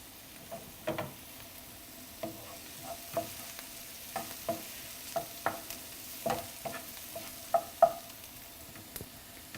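Onions soften in a pan with a gentle, steady sizzle. About a dozen sharp scrapes and taps from a stirring spoon come at irregular intervals, close up, with no voices.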